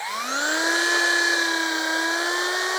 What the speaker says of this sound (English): So that's our log fully marked out, ready for drilling.